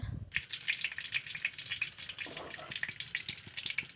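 Bay leaves and garam masala powder being stirred in a hot frying pan, a steady close sizzle with soft scraping strokes running throughout.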